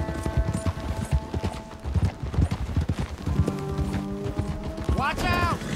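Hooves clip-clop steadily at a trot under game music in Red Dead Redemption 2, with voices talking and a horse whinnying briefly near the end.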